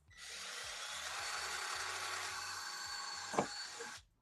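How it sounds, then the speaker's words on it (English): A cordless Ryobi drill drives a screw in one steady whirring run of about four seconds, close and fairly loud, ending with a brief clunk as the screw seats and the motor stops. "And then you just take it and drill it in."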